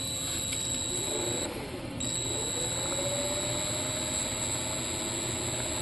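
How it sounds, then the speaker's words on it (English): A Dremel rotary tool spinning a small electric motor through a wheel, giving a continuous high-pitched whine with a steady whirring drone that rises slightly in pitch partway through. "just run the motor up a little bit with a Dremel tool"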